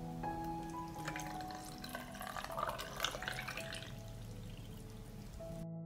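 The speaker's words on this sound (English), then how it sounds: "I fill the jars with water to cover the tomatoes." Water poured into glass jars packed with tomatoes, salt and vinegar, a steady close trickling and splashing stream running continuously and faintly with a low hum behind it.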